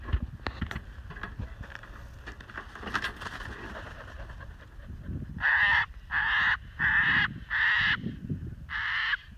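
A sulphur-crested cockatoo, released back where it was found, calls from a tree: after a noisy outdoor stretch come five loud, harsh screeches in a steady series, close by.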